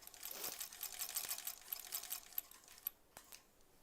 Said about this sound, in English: But let's start sewing.